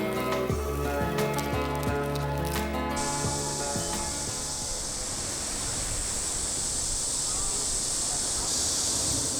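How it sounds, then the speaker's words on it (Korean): Cicadas fill a city in a summer heat wave with a shrill, steady buzzing drone. It rises after a few seconds of tonal, music-like sounds and then holds loud and unbroken. "올여름 도시는 폭염과 함께 찾아온 매미의 울음소리가 유난히 극성이었다."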